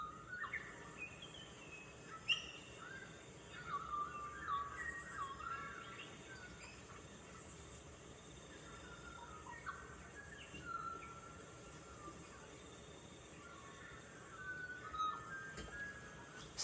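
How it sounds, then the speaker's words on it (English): Recorded birdsong plays faintly in the background, with scattered chirps and whistled calls over a soft, steady insect-like hiss, distant and low in level with no talking. "So do my bird sounds complement your Christmas music, Angela?"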